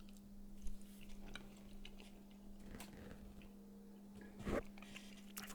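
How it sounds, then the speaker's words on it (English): Chewing gum worked close to the mouth in an ASMR setting, soft wet squishes and bites repeating irregularly over a steady low hum, with a sharper click near the end. "So I bought some chewing gum."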